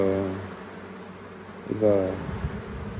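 Honeybees buzz in a queenless hive, a close droning hum with rising and falling harmonic swells, mixed with a nearby voice.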